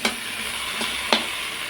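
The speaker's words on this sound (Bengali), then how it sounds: "এখন এর মধ্যে দিয়ে দেব কেটে ধুয়ে রাখা ওল শাকগুলো। ওল শাকটা এইভাবে নাড়াচাড়া করে নেব।" Elephant foot yam leaves stirred into lightly fried onion in a pan, with a steady sizzle and three sharp scraping strokes of the spatula spread across the short stretch, close and clear, with no voices.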